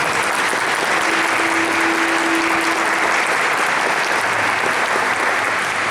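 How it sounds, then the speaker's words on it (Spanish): Audience applause breaking out after a guest is introduced at a talk on the seven-course guitar, a steady dense roar of many hands clapping, loud and continuous throughout. "Un fuerte aplauso para ella."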